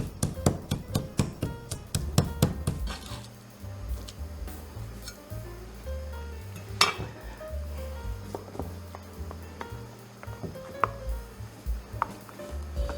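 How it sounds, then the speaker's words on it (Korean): A kitchen knife finely mincing garlic on a board for a sauce: a fast run of sharp, even chopping taps at first, then sparser, irregular knocks and clicks. "마늘은 곱게 다져야 깔끔한 양념장이 되니 칼로 좀 더 곱게 다져주고 잘 섞어줍니다"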